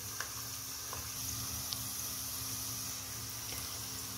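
Beef pieces frying in a pan for a Pakistani beef curry give a steady, fairly quiet sizzle throughout, with a few small pops and no talking.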